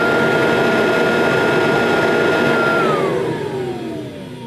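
A Kirby Tradition upright vacuum cleaner motor runs without its agitator, a loud steady whine with a high tonal hum that drops in pitch and level as the motor spins down.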